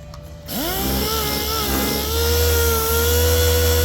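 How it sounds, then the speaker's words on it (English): A Rupes LHR75 random-orbital polisher buffs a car headlight. It spins up from silence into a loud, steady motor whine with a rising pitch that then holds as a constant drone, heard close and alone. "it's when you're polishing with a buffer, it's more like this"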